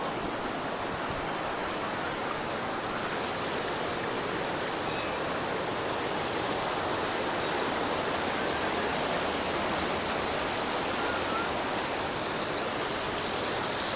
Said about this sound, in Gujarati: જો મિત્રો કુદરતી નેચરલ ઝરણું જુઓ